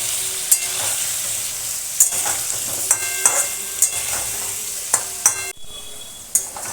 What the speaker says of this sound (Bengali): আলুটা খুব ভালো করে লাল লাল করে ভেজে নেব।